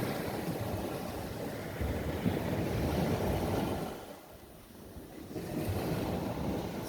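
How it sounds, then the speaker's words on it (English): Ocean waves wash steadily onto a beach in a continuous broadband roar, with wind noise mixed in; the surge eases briefly midway and then builds back up. "Just listening to the sounds of the water, the waves coming in."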